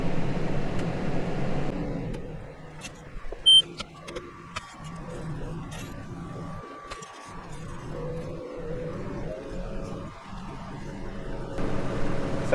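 A Case Maxxum 150 tractor ploughs a beet stubble field for spring barley with a furrow press, its engine a steady, fairly loud drone with shifting mechanical rumble throughout.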